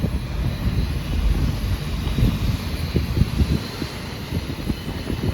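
Gusts of outdoor wind buffet the microphone beside a cooking fire near a cave, making uneven low rumbling bursts that rise and fall, with no one speaking.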